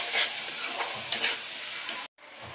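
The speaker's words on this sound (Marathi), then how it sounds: "चला आता हे पण मस्त टमाट्याचं वाटण शिजून घेऊया" Tomato masala paste frying and being stirred in a pan for an aloo bhaji, a steady close sizzle with scraping stir strokes, then a brief silent gap before the sizzle resumes more softly.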